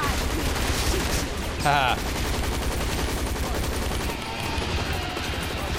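Dense, continuous automatic gunfire pours into dinosaurs in a zombies-style shooter, rapid overlapping shots with a brief tonal zap in the middle, and a short voice exclamation amid the barrage.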